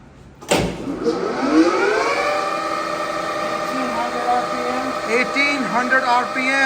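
A Leblond Regal 15x54 engine lathe spindle starts with a sudden jolt and winds up to 1800 RPM. Its siren-like whine rises, then settles into a steady tonal hum with wavering overtones.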